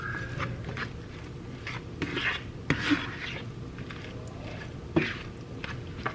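Apple pie filling being stirred in a bowl, with soft wet squishing and a few sharp clinks of a utensil against the bowl at close range.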